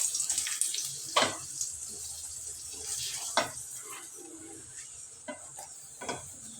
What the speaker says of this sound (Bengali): আমি 2-3টা রসুন এখানে দিয়ে দিলাম, তেলে ভেজে নেব ভর্তা করার জন্য